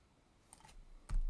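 Typing on a computer keyboard, a few faint close clicks of separate keys followed by a louder thump, quiet and brief.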